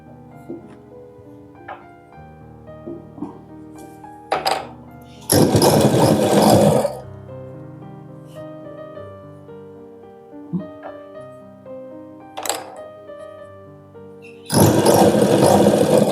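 Sewing machine stitching a lined blouse, running in two loud sustained bursts of several seconds each, separated by quieter handling and background music with no talking.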